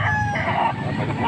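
Several fighting roosters crow and cluck together in a dense, continuous burst, close and loud, among a flock of game fowl brought to a gamefowl gathering in Angeles, Pampanga.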